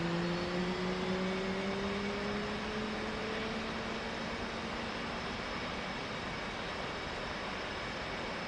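F/A-18C Hornet jet engine starting in the DCS flight simulator, a continuous roaring rush with whining tones gliding upward early on, then settling into a steady loud drone.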